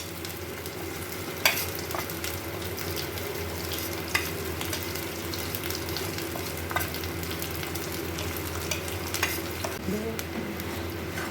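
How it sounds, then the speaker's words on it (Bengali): Ground spices stirred and frying in a pan with a paste of onion, ginger and garlic for a shrimp dish, giving a steady close sizzle with occasional sharp scrapes and clinks of the spoon. "এবার আমি গুঁড়ো মশলাগুলো দিয়ে দেবো।"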